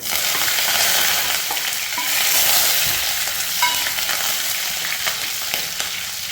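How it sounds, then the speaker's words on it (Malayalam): Steady loud sizzling of green chilies and curry leaves frying in hot oil, a continuous crackling hiss with occasional stirring noises. "നമുക്ക് ഇതിലേക്ക് ഇതാ 3 പച്ചമുളകും കറിവേപ്പിലയും ചേർത്ത് കൊടുക്കേ"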